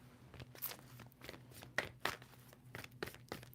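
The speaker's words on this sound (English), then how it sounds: "2 more shuffles for Gemini." Soft, quick papery flicks and riffles of a tarot deck being shuffled, a dozen or so light bursts in an uneven rhythm, close and quiet.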